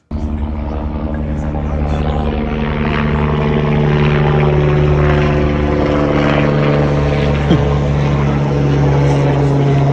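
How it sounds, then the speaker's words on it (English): A helicopter's engine and rotor drone steadily and loudly throughout, with strong low harmonic tones and a constant whirring beat holding at close range. "finally, we've got a helicopter"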